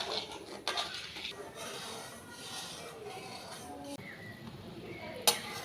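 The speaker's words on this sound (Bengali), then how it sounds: "এবার এটাকে নাড়াচাড়া করব, চিনি গলে যাওয়া পর্যন্ত অপেক্ষা করব।" Sugar syrup with cracked cardamom stirred in a pot, with quiet scraping and occasional metallic clinks from the spoon against the rim, faint and close, one sharper knock near the end.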